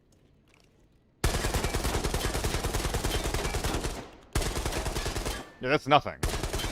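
Rapid automatic gunfire in a video game from a rifle loaded with M855 rounds, two long sustained loud bursts split by a short pause, with a brief talking voice between them.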